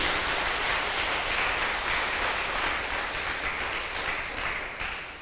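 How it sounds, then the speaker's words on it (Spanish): A church congregation applauds the Lord during a service on the resurrection of Christ, steady dense clapping that stays strong and then begins to fade toward the end. "si le van a dar un aplauso al Señor, dáselo con todo el corazón"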